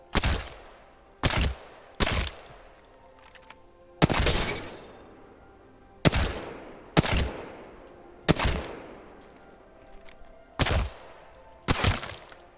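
Gunfire from two guns in Apex Legends, a series of single sharp, loud shots spaced about a second apart, each cracking and decaying quickly, with no talk.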